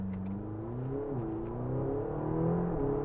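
A McLaren GT pulls away at low speed, its engine note rising and easing in smooth, steady revs, heard from inside the cabin at moderate volume.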